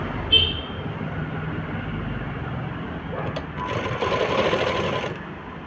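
A sewing machine stitches a frock, running in a short steady burst near the end over a low background hum, with faint speech nearby.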